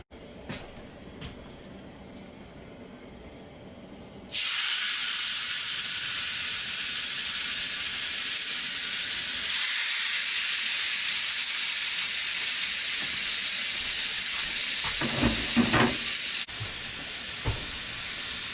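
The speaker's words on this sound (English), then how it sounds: "Now while the beef is grilling" Beef sizzles on a very hot griddle, a loud continuous frying hiss that bursts in suddenly and holds steady near the microphone, with a slight drop in level toward the end.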